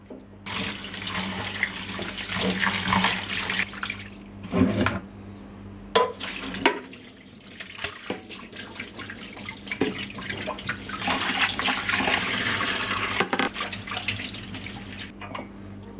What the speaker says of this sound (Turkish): şimdi balıklarımı yıkayacağım